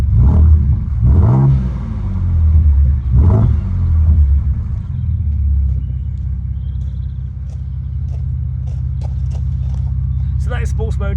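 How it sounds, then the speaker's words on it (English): A Ford Ranger Raptor engine revs in sports mode with a raspy, louder tone, two sharp blips early on before settling into a steady rumbling idle, with faint clicks toward the end. "So that is sports mode, a little bit more raspy, a little bit louder"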